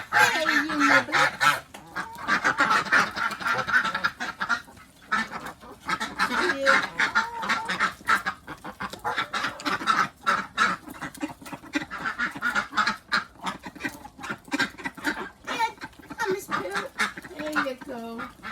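Ducks and geese being fed cucumber quack and honk in a busy, continuous chorus close by, with someone talking to them over the calls.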